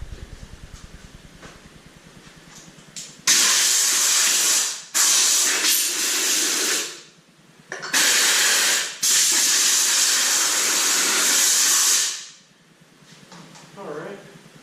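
An air compressor blows dust out of an air filter from a 1920 Ford New Holland tractor in loud, hissing blasts: several long bursts with short gaps between them, then a quieter tail at the end.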